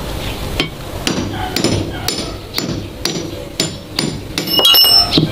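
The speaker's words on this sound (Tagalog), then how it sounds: "Papaluin po natin yan ng martilyo." Sharp metallic hammer blows, about nine, strike an electric fan's metal shaft at a steady, unhurried rhythm, each ringing briefly before the next. Close and fairly loud.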